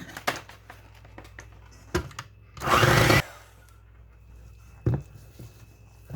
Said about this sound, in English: And now we're going to mix this with a mixer, a hand mixer.